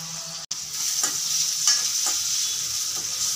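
Chicken with curry leaves, salt and chicken masala frying in a pan while being stirred, a steady loud sizzle with periodic scraping strokes of the spoon, no talk.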